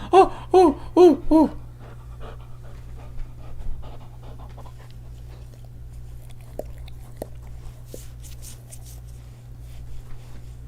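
A dog pants close by in four quick, loud rhythmic bursts, then goes quiet over a low hum with faint scattered rustles and clicks.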